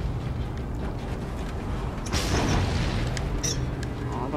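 A missile launches at enemy cars in the PS4 game Mad Max: a deep booming blast erupts over rumbling engine noise, followed by mechanical clatter.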